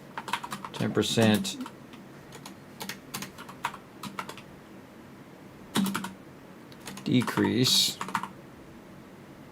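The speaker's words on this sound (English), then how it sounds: "my typing today is slow" Bursts of fast typing on a computer keyboard, close and crisp, in short irregular runs separated by pauses, with a person talking intermittently between the keystrokes.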